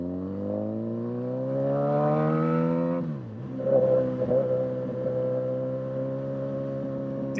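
Suzuki GSX-S 1000 motorcycle engine humming steadily on cruise control, with a rising pitch, a brief dip as the engine note drops, then a constant drone again, close and alone.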